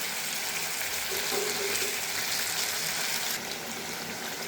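Meat cooking in a pan with a little water while being stirred: a soft, steady sizzle and bubbling hiss close by, with faint scraping of stirring and no talk over it.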